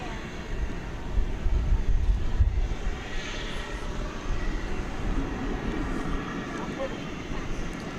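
An American Airlines Boeing 737-800 arriving from Fresno on runway 13 right at DFW Airport at dusk, heard as a steady, broad jet engine roar that swells early and holds at a distance, with a voice speaking over it.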